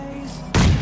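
A grenade in the game PUBG Lite detonates as a sudden loud, close boom that cuts in after a brief low, steady hum and then fills the rest of the short moment.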